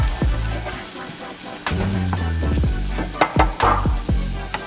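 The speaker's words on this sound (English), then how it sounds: "You're gonna allow your bacon to cook a little bit" Bacon frying in a pan over medium-high heat gives a steady sizzle, broken by scraping and clinking from a utensil against the pan as it is moved around.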